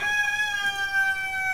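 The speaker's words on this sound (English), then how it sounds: "chicken likes the shady corner he's in" A chicken sounds in a shady corner with a sustained, rooster-like call that holds steady tones for over a second, close and fairly loud, with no talk.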